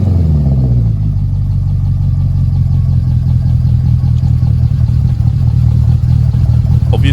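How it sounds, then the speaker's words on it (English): A wrecked Mercedes C63 AMG engine runs roughly after starting, misfiring with uneven low rumble and clatter, loud and steady throughout with no talking. "this thing was misfiring like crazy"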